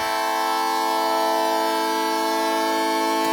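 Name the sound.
vocoder chord preset sounding like a train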